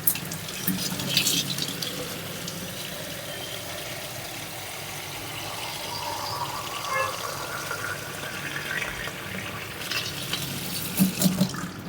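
Cold water being poured and swirled while changing water in a kitchen vessel, a steady close splashing and trickling wash with no speech.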